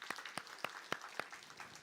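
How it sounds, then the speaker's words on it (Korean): A church congregation at a Sunday worship service applauds a returning elderly member, producing a short run of sharp, evenly spaced claps that stand out clearly, heard faintly and fairly close with no voices over them. "우리 빨리 쾌유하도록 박수하도록 하겠습니다."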